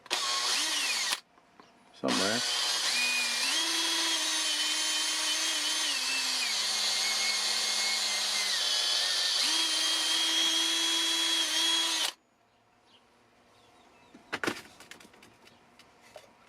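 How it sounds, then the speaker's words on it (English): A power drill bores a hole in repurposed parts for a DIY canoe-paddlers whirligig, starting with a short burst, then running steadily and loudly for about ten seconds before stopping, followed by quiet handling noises and a brief spoken word. "I need to drill a hole"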